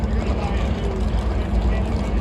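NASCAR race car engines fire up at Martinsville before the Xfinity 500, a steady, loud, dense engine roar that holds evenly throughout, with no clear voices over it.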